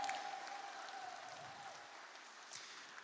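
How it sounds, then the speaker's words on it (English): Faint, distant applause from a charity dinner crowd, thinning out and fading over a few seconds under a hum of room noise. "can we have another round of applause for all of the performers you've seen on stage"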